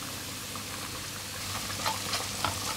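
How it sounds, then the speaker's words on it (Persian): Garlic and onion sizzle quietly in a pan, a soft steady frying crackle with a few sharper pops toward the end. "الان حدودا 1 دقیقه سیرمون تفت خورد و پیاز"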